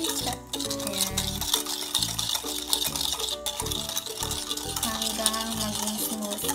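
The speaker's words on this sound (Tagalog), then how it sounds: "Haluin siya hanggang 4 to 5 minutes." Dalgona coffee mixture whisked by hand in a bowl, a steady scraping, clinking stir that continues throughout, close and fairly loud with brief pauses.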